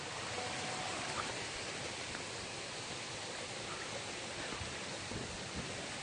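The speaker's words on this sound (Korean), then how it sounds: "물소리 너무 예쁘죠, 여러분?" Flowing water of a mountain stream at Witse-oreum, a steady broadband rush that holds even and unbroken throughout, fairly close and with no voices over it.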